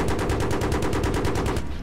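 Rapid automatic gunfire rattles in an even, fast rhythm in Battlefield 3, a loud sustained burst of evenly spaced shots close by, with no voices.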